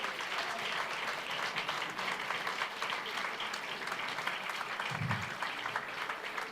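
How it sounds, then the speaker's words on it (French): An audience applauds at a best-neighbours award ceremony in Longjumeau, France. The clapping is dense and continuous, with a brief low thump partway through. "je vous demande d'applaudir Nicolas et Carla"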